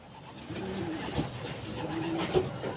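Racing pigeon, a blue bar bird, coos repeatedly at close range after flying home to its loft during a fun race in Agdangan, Quezon, with a steady background hum underneath.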